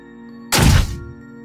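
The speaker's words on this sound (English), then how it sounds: "I was jarred from work by a frantic thumping on the floor above me" A single heavy, frantic thump strikes the floor overhead, a loud dull impact that rings briefly before fading under a low steady machine hum.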